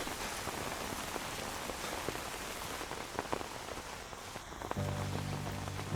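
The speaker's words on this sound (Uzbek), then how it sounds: "Men yomg'irni yomon ko'raman." Steady rain patters on a surface throughout, a dense even hiss with occasional sharper drops, with no voices.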